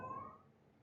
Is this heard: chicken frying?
no